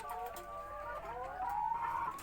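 Several laying hens from a small flock of 50 cluck and call close by, their rising, warbling notes overlapping in a busy coop.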